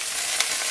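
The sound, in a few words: stir-frying General Tao chicken pieces in oil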